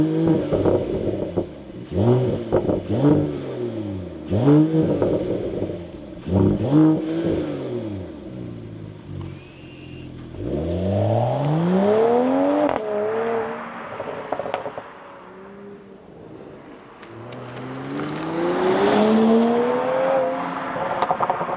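A 2022 Mercedes-AMG GT53 revs hard and accelerates through several gears, each pull rising in pitch and then dropping at the shift, loud and close, with long sweeping runs toward the end.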